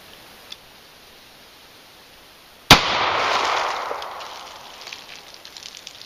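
A single sharp, loud rifle shot from a 22 TCM firing a 40 grain soft point round, a crack after a quiet lead-in, followed by a lingering outdoor rumble and faint ticking that slowly fades.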